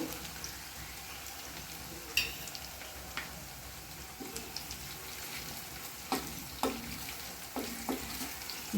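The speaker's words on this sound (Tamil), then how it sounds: "எண்ணெயில் பூண்டு நல்லா வதங்கணும்" Garlic sautéing slowly in oil on a low simmer flame. A soft, even background sizzle runs throughout, broken by occasional spoon clinks and scrapes that grow more frequent toward the end, with no voices.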